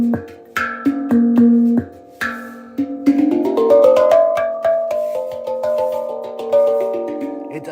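Metallic, bell-like tones struck one after another, each ringing with a wobbly, slightly off pitch that slides and warbles, loud and close.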